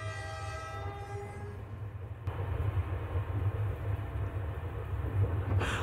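Train sound effect from the video game Omori: a rumbling rolling engine with a long horn-like tone that fades out, followed by steady noisy track rumble. Continuous and moderately loud, with no speech.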